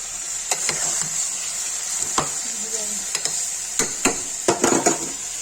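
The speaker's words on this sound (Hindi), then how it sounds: "जब ये भून जाएगा तो इसकी थोड़ा सा हल्दी, थोड़ा सा लाल मिर्च कुकर में ही डाल के चलाएंगे" Potato and soybean masala frying and being stirred in a pressure cooker: a spoon clacks and scrapes against the metal in irregular strokes over a steady, close sizzle, with no voices.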